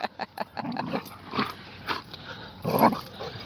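A dog indoors gives a string of short barks and whimpery yelps, irregularly spaced over a few seconds and fairly close, with some room noise but no talking.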